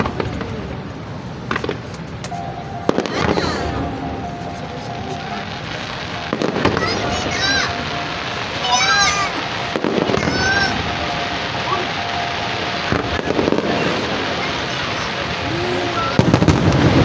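Fireworks from Germany's Steffes Ollig Feuerwerke in a 2026 pyromusical competition burst repeatedly, with sharp booming cracks and crackling over steady music, plus a few scattered voices from the crowd.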